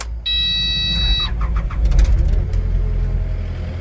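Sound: Kubota KX080 excavator engine starting

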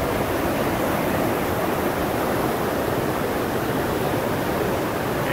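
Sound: Vernal Falls waterfall, Yosemite

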